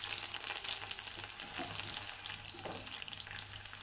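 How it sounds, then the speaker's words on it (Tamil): Mustard seeds and garlic frying in hot oil in a South Indian home kitchen, a steady close sizzle with crackling pops and some stirring, no talk. "கடுகு பொரிஞ்சதும் பூண்டு"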